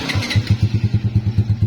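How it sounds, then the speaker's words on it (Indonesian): A motorcycle engine putters at idle nearby, a steady, rapid, even thumping beat with no talk. "Kita hidupkan mesinnya."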